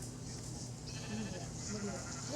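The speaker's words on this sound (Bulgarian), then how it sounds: "О, овца." A sheep in the video game Minecraft bleats in short, wavering cries that are fairly faint beneath a steady hum of background game sound.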